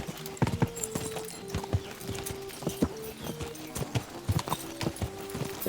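Horse hooves clip-clop at a steady trotting rhythm in the medieval game Kingdom Come Deliverance II, mid-distance over a low ambient bed with tonal in-game sounds, no voices.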